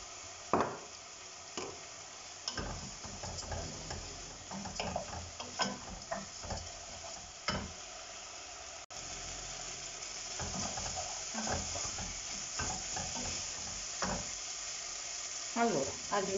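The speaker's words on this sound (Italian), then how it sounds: "Lasciamo un attimo evaporare il vino" White wine sizzles and bubbles as it cooks off in a risotto pan, a soft steady frying hiss broken by scattered clicks and stirring taps, fairly quiet and close.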